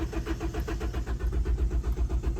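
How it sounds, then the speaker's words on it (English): A car's starter motor cranking with the car in first gear, a rapid rhythmic chugging pulse of even beats, fairly close and continuous without the engine catching. "with the car in first gear and cranking that starter motor"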